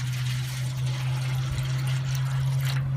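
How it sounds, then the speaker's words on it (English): Juice pours into the drip pan of a Big Green Egg smoker, a close, continuous trickling and splashing over a steady low hum, with no talk. "Pour some more juice in there."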